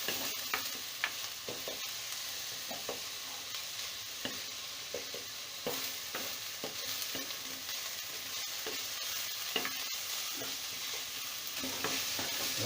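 Ginger garlic paste and onion frying in a pan, a steady close sizzle with scattered stirring scrapes and clicks throughout, no voices.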